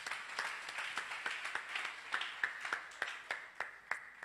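A church congregation claps in a steady rhythm, the sharp claps evenly spaced and fairly close, over a low hum of crowd noise with no clear talk.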